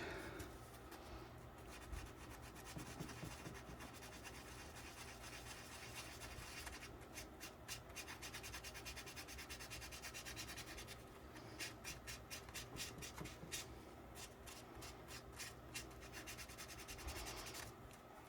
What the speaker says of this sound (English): we're going to scuff up this area right here with some 180.